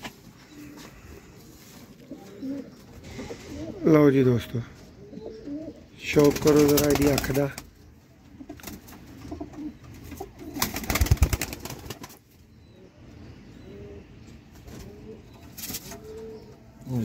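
Pigeons coo in bursts, close and fairly loud, with low throaty calls between stretches of someone talking over them.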